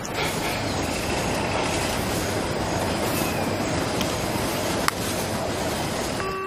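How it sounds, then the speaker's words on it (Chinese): Train rolls along rails with a steady, loud rumbling roar and faint squealing overtones, continuous throughout with a single sharp clank near the end. "怎么有火车声啊？"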